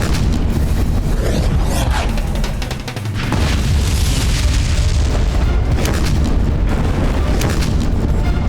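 Mughal cannon shells are fired in a staged battle scene from a historical Hindi TV drama, a loud, continuous barrage of deep booms and rumbling blasts with a brief lull partway through.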